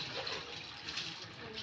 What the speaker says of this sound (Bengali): গরম জল দিয়ে মাথার ভিতরে